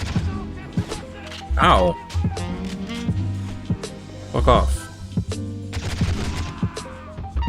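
Video game gunfire on a PlayStation 2, several loud shots and bursts popping irregularly under a player's talk and exclamations, mixed with other game sounds.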